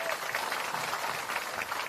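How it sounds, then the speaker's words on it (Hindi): A crowd applauds for Prashant Kishor at a public gathering in Bihar, a steady, dense wash of clapping that holds at an even level throughout, with no clear pauses. "आदरणीय प्रशांत किशोर जी के लिए एक बार जोरदार ताली बजाइए"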